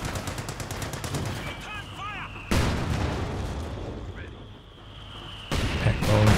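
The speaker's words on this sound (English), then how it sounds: "mine triggered by mortar shells" In a Company of Heroes 2 battle, mortar shells set off a mine: two loud booming blasts a few seconds apart, with tonal chirps and a voice briefly in the mix between them.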